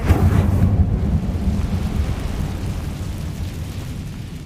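The Incendio fire spell in Hogwarts Legacy is cast: a loud, deep whooshing roar bursts out at once, then settles into a dense crackling rumble that holds at a high level.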